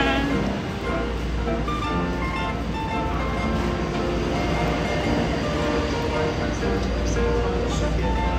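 Inside a Taoyuan Airport MRT train running on an elevated track between Taipei and the airport, a loud continuous rumble and rattle carries on throughout, with people talking over it.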